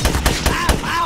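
A turret firing in the GRAV survival game, four loud, evenly spaced shots in quick rhythm, close and punchy, with a faint whooshing tone between them.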